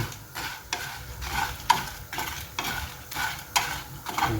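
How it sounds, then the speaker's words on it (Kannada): Masala spices roast on a low flame with steady scraping and stirring strokes, a rhythmic series of close spatula scrapes over a soft background sizzle. "ಎಲ್ಲ ಮಸಾಲವನ್ನು ಸ್ವಲ್ಪ ಸಣ್ಣ ಉರಿಯಲ್ಲಿ ಹುರಿತಾ ಇದ್ದೀನಿ"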